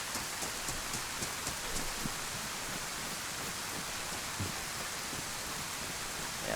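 Steady rain pours in the video game DayZ, a continuous even hiss of falling water with faint scattered drops, moderately loud and alone with no talking.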